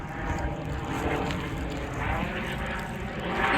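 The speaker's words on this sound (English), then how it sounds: "Can you see the airplane?" A propeller airplane drones steadily overhead throughout, a broad continuous engine rumble heard outdoors on a peaceful walk with a Chow Chow dog, growing slightly louder toward the end.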